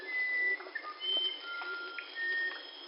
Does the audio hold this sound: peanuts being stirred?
no